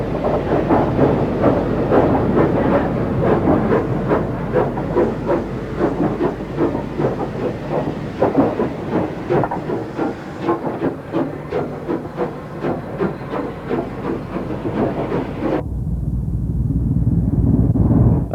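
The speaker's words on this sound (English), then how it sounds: "Another merchant navy speeding through Basingstoke." A Merchant Navy class steam locomotive, Class 8 designed by Oliver Bulleid in 1941, speeds through Basingstoke with a loud, rapid rhythmic beat of wheels and hissing steam that holds steady for some fifteen seconds, then drops to a softer rumble.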